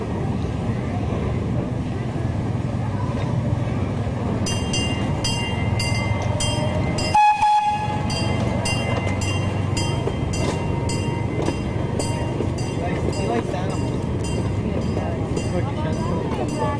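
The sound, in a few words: train passing by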